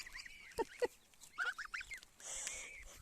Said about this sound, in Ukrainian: Гуси мене хочуть з'їсти.